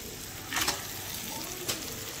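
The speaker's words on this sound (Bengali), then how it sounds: "এবার মাছগুলোকে দিয়ে একটু কষতে লাগবো" Prawns frying in masala in a pan for chingri malaikari give a quiet, continuous sizzle, with two short bursts of louder crackling as they are stirred.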